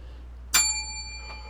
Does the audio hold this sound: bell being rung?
yes